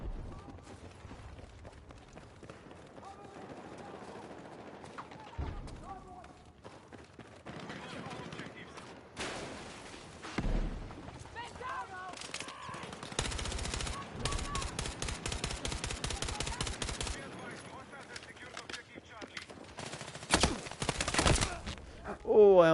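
Rapid bursts of automatic gunfire and single shots ring out in a Battlefield 6 match on PS5, irregular and close, mixed with game effects while a player talks over the action.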